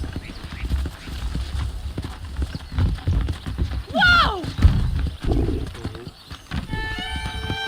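Hooves clip-clop nearby as saddled horses move about in the video game Red Dead Redemption, with a snort and a rising whinny midway; a man briefly calls out over them.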